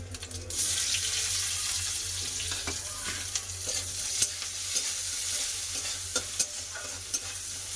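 Onion and green chillies frying in mustard oil, with panch phoron and dry red chilli, a steady bright sizzle with repeated spatula scrapes and clinks, close and fairly loud, no voices.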